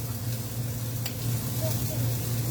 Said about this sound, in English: So we're just searing it.